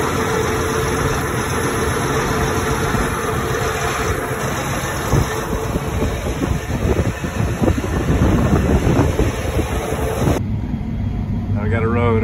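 A steady engine idles nearby with constant low rumble and some wind buffeting, then cuts to a quieter, thinner hum near the end.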